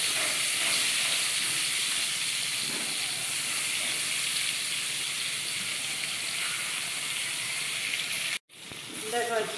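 Crab and crab legs fry in hot oil with a loud, dense, continuous hiss up close, which cuts out abruptly near the end and then returns more faintly.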